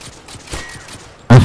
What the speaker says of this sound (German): Einfach nur in den Rauch schießen.